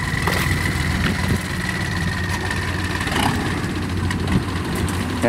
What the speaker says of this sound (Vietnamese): Nghe máy kia khởi động lên nè.